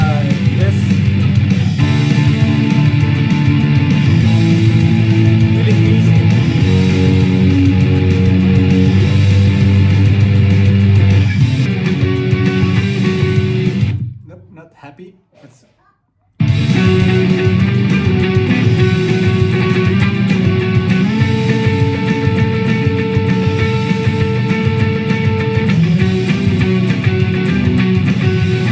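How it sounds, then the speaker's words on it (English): Loud, distorted electric guitar power chords in a ska punk style are strummed continuously. The sound cuts out abruptly for about two seconds midway, then resumes at full volume. "I decided to go with power chords after the ska. Very generic, but very easy. I'm playing this."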